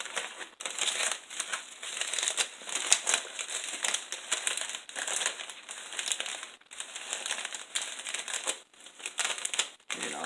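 Crinkly filler being pressed down into a bag to form a nest, crackling and crumpling in uneven bursts with short pauses, close up and fairly quiet.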